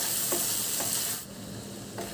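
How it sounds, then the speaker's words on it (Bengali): Spices sauté with potato and onion for a fish-head chorchori as a spoon stirs the pan, with a steady hiss of frying and a few soft scraping strokes. "আবার সব মশলাটা একসাথে মিশিয়ে একটু ভালো করে কষাব"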